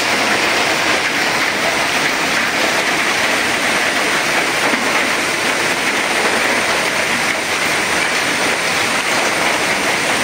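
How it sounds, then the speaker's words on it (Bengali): Rain pours down in a loud, dense, unbroken hiss that stays level throughout, close and heavy with no voices over it. "বলতে না বলতে বৃষ্টি চলে আইছে।"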